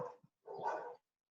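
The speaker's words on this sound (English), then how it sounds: "There's a dog outside." A dog barking outdoors, with one short yelp followed by a longer single bark, faint and somewhat distant, in an otherwise quiet room with no talking.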